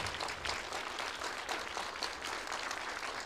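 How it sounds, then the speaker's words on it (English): A crowd claps steadily for an honored guest at the official opening of a festival of Muslim art and culture, a dense, even patter of applause held at moderate loudness throughout. "This lady deserves a very warm round of applause."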